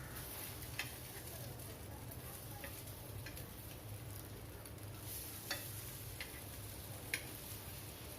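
Eggplant rings fry in a pan over a low flame, giving a faint, steady sizzle with occasional soft ticks and clicks, heard quietly with no talking.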